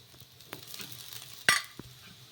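A paratha fries in oil on a pan, giving a faint, steady sizzle with a few soft scrapes and one sharper crackle partway through.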